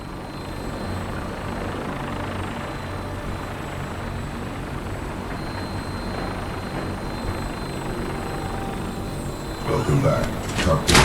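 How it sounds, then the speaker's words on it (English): A vertibird aircraft in Fallout 4 gives off a steady, loud rotor and engine drone, with a few clanks near the end. "Now, we have a vertibird on standby, fully armed and ready to depart."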